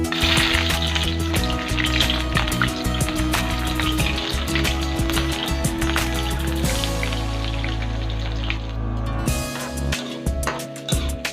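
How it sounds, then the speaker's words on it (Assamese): Sliced onion and green chillies fry in hot oil in a wok, a loud continuous sizzle with occasional stirring clicks and a low steady hum underneath. "এতিয়া আমি ইয়াত কাটি থোৱা পিঁয়াজ আৰু জলকীয়াখিনি দি দিম।"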